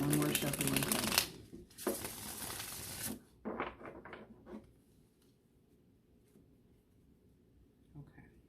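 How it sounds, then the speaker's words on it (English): Tarot cards are riffled and shuffled in two brisk bursts, followed by a few soft flicks and taps of the deck, then near silence. "I'm going to do one more shuffling first."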